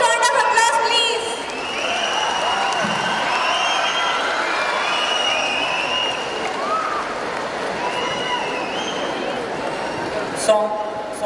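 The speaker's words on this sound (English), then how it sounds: "A huge round of applause, please" An audience at a career enhancement programme in Hyderabad claps and cheers for an army general being welcomed as a guest. The applause is broad and steady for about ten seconds, with a crowd murmur underneath, and trails off near the end.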